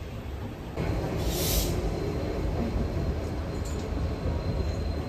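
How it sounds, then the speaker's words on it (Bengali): The Shantiniketan Express pulls out of Howrah station's platform 12, its steady rolling rumble and wheel noise close and continuous, with a brief high squeal early on. "আমাদের ট্রেন সঠিক সময় 10টার সময় হাওড়ার 12 নম্বর প্ল্যাটফর্ম থেকে ছেড়ে বেরিয়ে যাচ্ছে বোলপুরের উদ্দেশ্যে"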